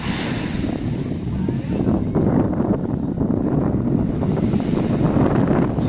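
Warm wind blows across a sandy beach at Caleta de Fuste, Fuerteventura, a steady loud rush buffeting the microphone with a low rumble of surf beneath.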